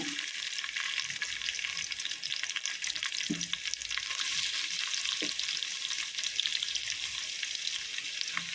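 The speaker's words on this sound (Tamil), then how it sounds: "இப்போ நல்லா வெங்காயம் வதங்கணும்" Sliced onions and green chillies sauté in a pan for white pulao, giving a dense, close, hissing sizzle throughout. Occasional soft knocks of a spoon break the steady crackle, and no one speaks.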